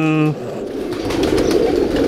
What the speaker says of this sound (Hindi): बहुत ज़्यादा कबूतर रखे हैं माशाल्लाह